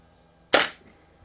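A single sharp gunshot from a handgun fitted with a Feyachi V30 red dot, fired while plinking at a target seven yards away outdoors, a loud close crack with a short decaying tail, silence before it.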